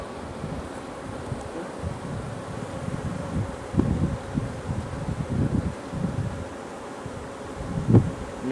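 Honeybees buzz steadily around an open hive during an inspection, a dense close drone that swells and fades, with occasional rustling of frames.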